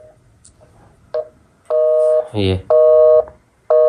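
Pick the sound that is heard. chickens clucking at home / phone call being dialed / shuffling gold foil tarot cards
phone call being dialed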